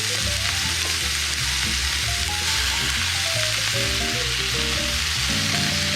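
Hash browns fry in a hot pan with a steady, close sizzle and crackle, while a utensil stirs and clinks lightly over it.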